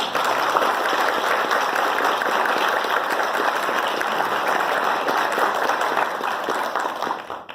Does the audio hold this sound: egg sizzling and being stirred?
no